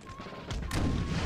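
Cannon fire in the video game Napoleon: Total War: two close, heavy booming blasts in quick succession over a steady rumble of battle.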